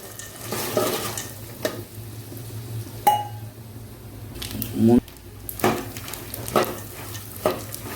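Dried red chillies fry for tempering in a pan, giving a soft sizzle with stirring and occasional clinks of utensil on metal, while a voice talks over it.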